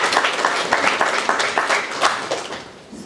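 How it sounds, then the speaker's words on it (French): Audience applause honoring the president of a network at the launch of a women entrepreneurs' excellence prize, a moderate stretch of scattered clapping that thins out toward the end. "il faut encore applaudir Madame la Présidente du réseau"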